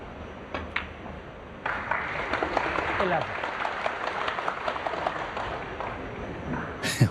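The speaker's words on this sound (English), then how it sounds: "there's a section of the crowd applauding every pot, whether it's sort of straightforward or not" Snooker crowd applauding a pot at the Shanghai Masters 2025 during Ronnie O'Sullivan versus Barry Hawkins, a steady round of clapping rising suddenly and sustained for several seconds at moderate distance, with a few isolated taps before it.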